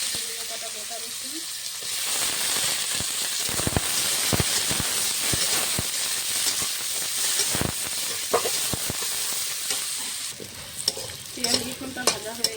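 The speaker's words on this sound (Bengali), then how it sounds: "ফোড়নটা হয়ে গেছে, দিয়ে দেবো পেঁয়াজ, কটা গোটা রসুন" Sliced onion and whole garlic cloves sizzle in hot mustard oil tempered with dried chilli and cumin, a steady frying hiss broken by clattering stirring strokes in the pan.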